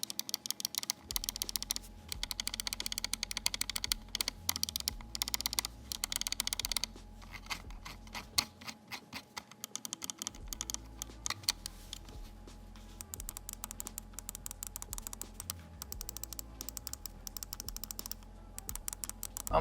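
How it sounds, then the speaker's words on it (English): Optical switch clicks from a Razer Viper Ultimate mouse come in rapid, close, crisp bursts that patter quickly with a few short pauses, and no one talks. "I'll go ahead and give you guys a sound test of them now so you can form your own opinions on how you like them."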